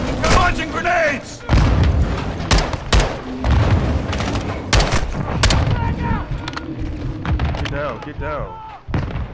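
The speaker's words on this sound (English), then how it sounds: "Incoming! Take cover! They're launching grenades!" Grenade blasts and bursts of gunfire in the Call of Duty: Modern Warfare II campaign, loud booms and cracking shots layered together, with shouted voices over the combat.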